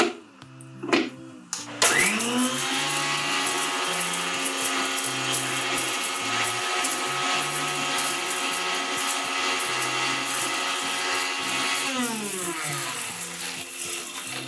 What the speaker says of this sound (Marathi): मी मिक्सरला ही सुका मसाला आहे ते आधी फिरवून घेते